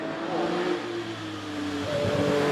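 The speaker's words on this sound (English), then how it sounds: "Then we've got Richard Jones in the 3-litre Porsche." A 3-litre Porsche 911, an early L-registration car with the classic narrow shape, climbs the Prescott hillclimb course, its engine note rising and falling as it revs, heard at a distance with steady outdoor background.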